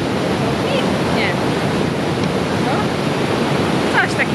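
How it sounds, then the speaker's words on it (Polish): A waterfall in Fjaðrárgljúfur canyon, Iceland, makes a constant broadband roar and rush that fills the whole clip. Faint voices come through underneath. "bo tu wodospad jest"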